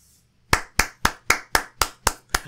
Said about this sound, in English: I just have to applaud after these openings